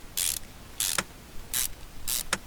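Bolts being fitted onto a clutch pressure plate in the Car Mechanic Simulator video game, as four short bursts of bright, hissing mechanical clicks, each followed by a quiet pause.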